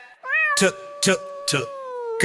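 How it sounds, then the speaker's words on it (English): A cat's meow in a children's phonics alphabet song, a clear drawn-out tonal call held close and loud, crossed by three sharp rhythmic bursts of sound. "C is for cat, cat,"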